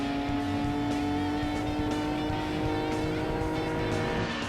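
A race car engine in the Gran Turismo 2 video game, held at a steady high-pitched drone while slipstreaming behind rivals, continuous and fairly loud with no speech.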